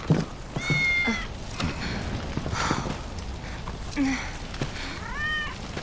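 A cat meows in the video game Final Fantasy 7 Remake, several short rising and falling mews spaced across the moment over faint game ambience and low footstep-like thumps.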